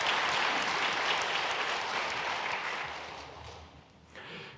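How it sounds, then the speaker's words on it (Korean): A church congregation applauds to welcome new members during a Sunday worship service, steady dense clapping filling the room and tapering slightly toward the end. "다 같이 큰 박수로 환영하겠습니다"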